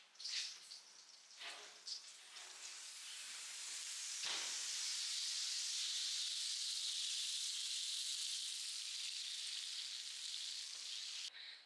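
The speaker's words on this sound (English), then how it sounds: "This is a little bit of tallow on a cast iron pan. I'm putting this at high heat and I'm gonna let this melt down" Tallow melts on a cast iron pan over high heat, a close, steady sizzle and hiss that builds after a few brief crackling bursts and continues evenly to the end.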